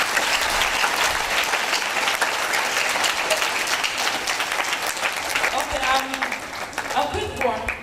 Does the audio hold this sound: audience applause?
yes